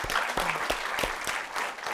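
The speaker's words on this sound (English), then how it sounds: "So give yourselves a big round of applause." Audience at a Bioneers session on Indigenous science applauds itself, a short burst of dense clapping with a few sharp individual claps standing out, steady and close.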